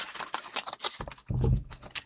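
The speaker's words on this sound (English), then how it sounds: "we'll set that aside and get our card shuffled" Tarot cards shuffled by hand during a reading, a quick run of crisp papery riffles and taps ending in a soft thump, close and quiet, with no talking.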